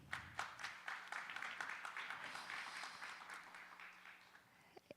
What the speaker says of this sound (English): please give her another big round of applause